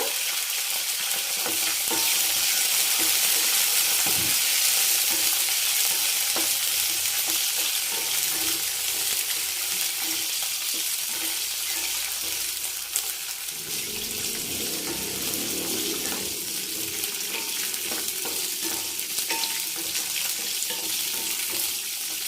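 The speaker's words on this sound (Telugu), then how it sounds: "బాగా వేయించుకొని పచ్చిమిరపకాయలు బాగా వేగాలండి" Green chilies frying in a pan for coconut chutney, a steady hiss of sizzling oil with occasional stirring scrapes and clinks, continuous and close, with no one speaking.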